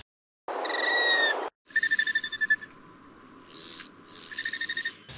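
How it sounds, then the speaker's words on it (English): Hummingbird flight sounds made by tail feathers: a loud buzzy burst, then a series of thin, rapid pulsed chirps and tonal whistles, heard close with quiet background between. "the sounds that the hummingbirds are making with their tail feathers are louder than their vocalizations"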